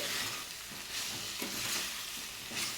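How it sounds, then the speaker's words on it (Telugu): Chopped pieces fry in oil with masala, salt and ginger-garlic paste, giving a soft, continuous sizzle with light stirring scrapes at regular intervals, close but fairly quiet. "ఈ ఆయిల్లో మనకి మసాలాలు వేసుకున్నాం కదా ఉప్పు అలాగే అల్లం వెదులు పేస్ట్ ఇవన్నీ ఇవన్నీ ఒక్కసారి ముక్కకు పట్టి ముక్క అనేది కొంచెం మగ్గేంత వరకు వేయించుకుంటే సరిపోతుంది"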